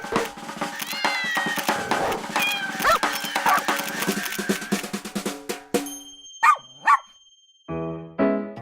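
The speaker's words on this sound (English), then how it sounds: "two species of animals you know well, cats and dogs" Cats meowing and dogs barking together, a busy overlapping mix of yelps, woofs and meows for several seconds, followed by a few separate drawn-out cat meows near the end.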